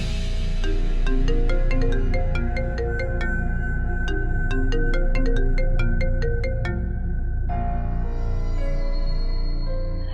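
A phone ringtone plays as a call is placed, a steady repeating electronic melody of bright tones that runs loud and alone for most of the stretch before the pattern changes near the end.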